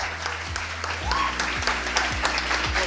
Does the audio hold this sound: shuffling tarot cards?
no